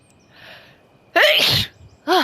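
A single sneeze from a video game character, a soft inhale followed by a loud burst and a brief second burst close to the mic, with no talking.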